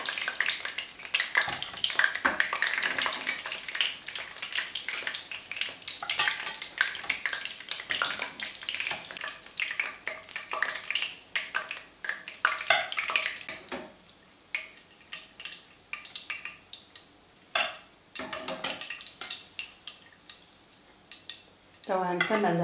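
Kefta meatballs stuffed with calf brain fry in a pan amid frequent scraping and clinking of a utensil against the pan, with a soft sizzle running underneath and brief sharper knocks near the end.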